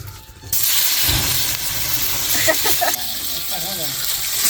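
Onion frying in a pan for a Maharashtrian masoor amti, a steady broadband sizzle and hiss with someone speaking over it throughout.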